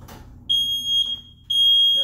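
Freshly mounted household smoke detector sounding during a test, two loud piercing electronic beeps in a steady on-off pattern, close by, after a brief soft noise at the start.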